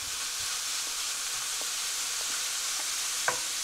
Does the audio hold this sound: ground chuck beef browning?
yes